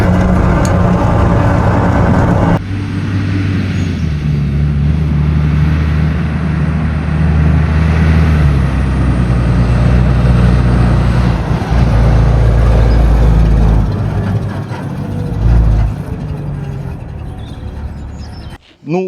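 A Turkish Kirpi armored vehicle drives with a loud, steady low engine drone and road rumble throughout, a hiss rising partway in and a brief thump near the end, heard from close by inside.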